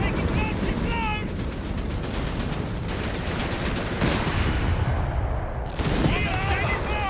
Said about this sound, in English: Oh, that's the enemy artillery.